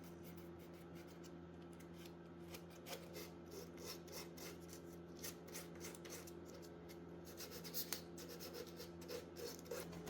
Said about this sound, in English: so I use 120 grit and go along the edges and details, just revealing that mahogany wood back through the white paint